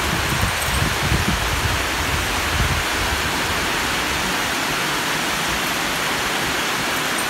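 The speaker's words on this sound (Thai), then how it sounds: "น้ำก็ไหลมาหาแล้วนะคะ" Heavy rain with rainwater flowing in under a shelter at an elephant care site, a loud, dense, continuous wash of water noise with a heavier low rumble early on, no voices.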